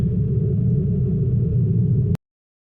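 Steady, loud low rumble of a car cruising at 60 km/h on the Mumbai–Nashik highway, heard continuously from inside the vehicle before cutting off abruptly.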